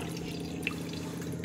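Water dripping and trickling as watery food is squeezed by hand, a steady low wet trickle with a faint drip, close by and without talking.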